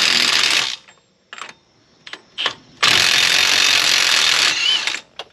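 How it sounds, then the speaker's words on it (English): A ratchet works a 32 mm axle bolt loose on a car wheel, giving loud close bursts of rapid clicking and whirring broken by short gaps, with one long sustained run near the end and no voices. "What we want to do next is remove this axle bolt so we can straighten the wheel."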